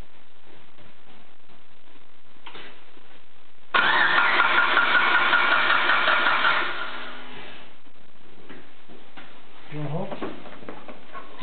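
A tuned Mitsubishi Evo 8 making over 600 horsepower fires up for the first time, a loud burst of engine roar for about three seconds that then dies away, with people talking nearby before and after.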